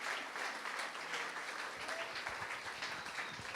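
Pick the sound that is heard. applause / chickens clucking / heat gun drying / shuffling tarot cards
applause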